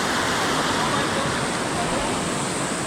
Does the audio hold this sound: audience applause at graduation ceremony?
no